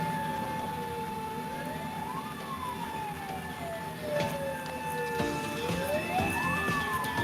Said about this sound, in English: So don't mind the ambulance right there.